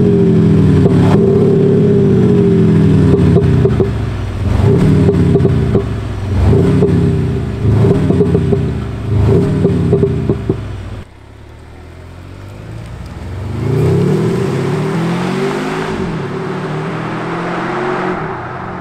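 Volvo XC90 engine run through an active sound generator in its dynamic profile, droning loud and close as it revs in repeated rising and falling surges under load, then a rougher, noisier acceleration pull.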